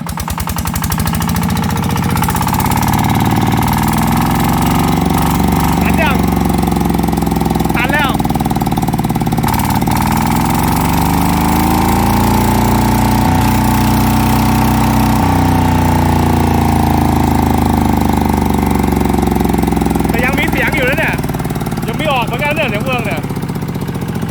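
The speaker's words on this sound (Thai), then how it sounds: "ตั้งเร่งเลยพี่ ฟังเสียงเฟืองนี่ดังไหม" A small farm engine, used for plowing rice fields and pumping water, runs loud and close, its pitch rising and falling as it revs, with a mechanical gear whine and occasional voices over it.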